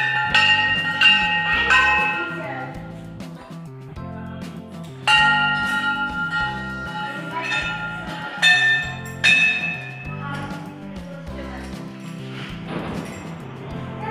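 A resonant temple bell at a Sonepur mandir is struck repeatedly at irregular intervals, each ring lingering and overlapping the last, with no voices.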